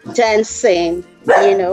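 A dog barks loudly and close by in a house, giving three strong, toned barks with short gaps, over a person who keeps talking.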